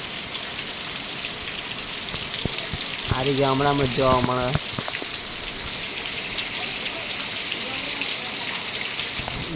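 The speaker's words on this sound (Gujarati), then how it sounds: "જોઈ લો વરસાદ" Steady heavy rain hisses throughout in a village, with a brief burst of a voice partway through over the downpour.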